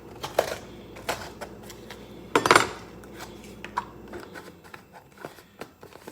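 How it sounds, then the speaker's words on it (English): Clatter and clicks of a new plastic container of granulated onion powder being opened in a home kitchen, a few sharp close handling snaps with one louder rattle burst near the middle, no talking. "I haven't used it yet, so I'm going to go ahead and open it up"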